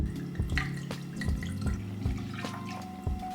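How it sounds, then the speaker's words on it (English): Cabernet Sauvignon pours from a bottle into a pot as a close, gurgling stream of liquid with rhythmic glugs and splashes, quiet and alone. "you're gonna pour a whole bottle of Cabernet Sauvignon."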